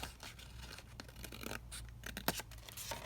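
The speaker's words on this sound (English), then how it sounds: "Let me just cut this edge off." Scissors snip the edge off a sheet of junk-journal paper, a run of close, crisp cuts and light paper scratches with a louder snap near the end, no talking.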